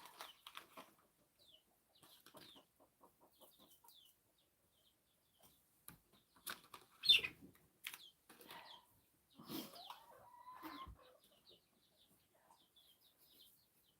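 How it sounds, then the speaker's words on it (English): Chickens cluck intermittently with bursts of wing flapping and scuffling, fairly faint, with quiet gaps between the flurries. "Get on down, chickens."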